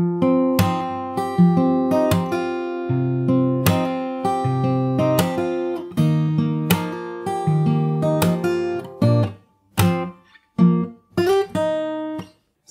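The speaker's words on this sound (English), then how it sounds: "After that we have the pre-chorus, which sounds like this." The pre-chorus of a song on fingerstyle acoustic guitar, with plucked chords and melody notes played up close, ending in a few short choppy strums and brief gaps, with no voice.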